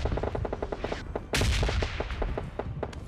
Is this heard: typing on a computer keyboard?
no